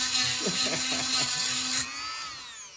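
Electric chainsaw chain sharpener grinding a chipped tooth on a chainsaw blade, a steady high-pitched whine with short rhythmic bursts as the stone bites, then a sustained tapering spin-down after the grind stops.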